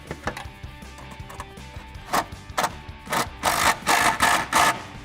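An impact gun tightens the top body panel bolt while a side step bar is fitted to a 2014-2018 Silverado. It fires in several short, loud rattling bursts that grow longer toward the end, with lighter ratcheting clicks earlier.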